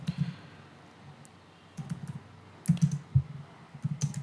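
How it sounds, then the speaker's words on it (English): Keys clatter on a computer keyboard as a short message is typed, quick irregular bursts of taps with pauses between, close by and moderately quiet over a low steady hum. "Now in the message, I'm just going to type a simple message."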